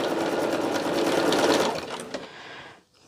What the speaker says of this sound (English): I think I can get the quilting done on the machine.